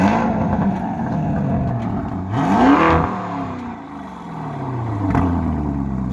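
A 2021 Lamborghini Urus engine revs once in a sharp rising blip that fades, over a steady idle, close and loud, followed by a smaller second pulse.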